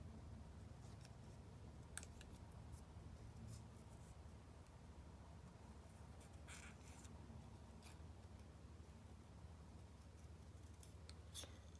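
Scissors snip out a small teal paper boot shape in a quiet craft setting, faint repeated cuts coming in short clusters over a soft background hiss.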